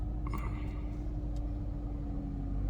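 A 2012 Nissan Rogue engine idles steadily after being started, a low constant hum with a faint tonal drone, heard up close with no talking.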